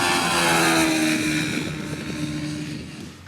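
Exhaust note of a 2021 TVS Apache RR 310 motorcycle, a steady, smooth mid-pitched drone with a faint rasp, held close for a few seconds and easing slightly toward the end, with some wind noise.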